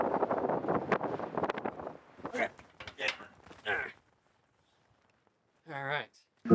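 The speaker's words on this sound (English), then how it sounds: "it's just so windy and cold too." Gusty wind buffets the microphone under a person talking, followed by a quiet stretch and another short burst of speech.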